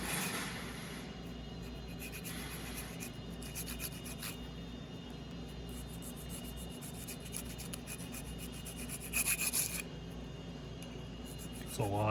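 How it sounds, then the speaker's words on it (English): A hacksaw blade scrapes grime out of a brake caliper on a 2020 Hyundai Kona Electric, a faint steady rasping scratch that continues throughout with no talking. "So I'm just going to use a hacksaw blade."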